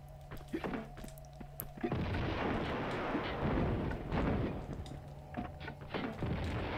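Grenade launched at an enemy in Tomb Raider II, a sustained loud burst of boom and rumble lasting several seconds, with a few sharp thuds and gunshots before and after and a steady game tone in the background.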